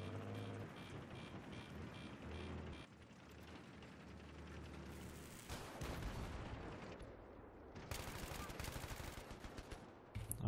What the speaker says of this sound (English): I'm just firing blindly because I don't see anything